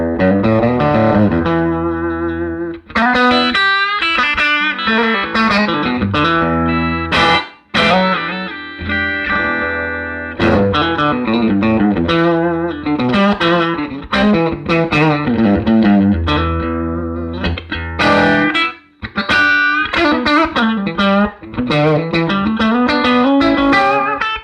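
Electric guitar on the bridge pickup played through a Fender 1962 Twin amp with no reverb, sounding dry and steady across a continuous run of chords and single notes with only brief gaps.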